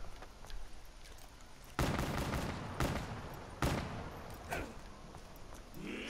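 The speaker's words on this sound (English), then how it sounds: "Let's test out this revolver." Revolver fire in Call of Duty Black Ops III Zombies cracks out as a few loud, separate shots spaced about a second apart over low game background noise.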